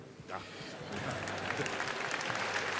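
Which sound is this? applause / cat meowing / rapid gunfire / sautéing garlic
applause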